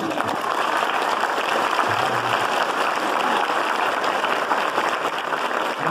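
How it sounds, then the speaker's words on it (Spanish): A crowd at a church anniversary gathering claps for the mothers who directed the children, a steady, even round of applause sustained for several seconds with a brief murmur of voices partway through. "Ahora el otro aplauso para las madres que los dirigieron."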